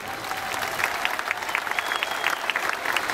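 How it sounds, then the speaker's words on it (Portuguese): A crowd at a music anniversary concert breaks into a brief round of steady applause, dense clapping heard close, with a faint tone lingering beneath. "Uma salva de palmas para eles."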